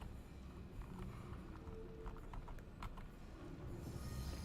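In a video game, a train clatters and rattles by with a continuous low rumble and faint metallic clicks and squeals, swelling slightly louder toward the end, with no talking.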